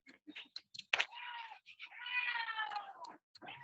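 A cat meows several times, quiet and close, with short chirps leading into long, drawn-out wavering cries. Faint clicking sounds come in between.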